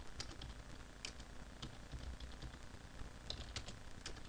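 Keys clatter on a computer keyboard as a command is typed, a quick irregular string of soft, close clicks over a faint steady hum.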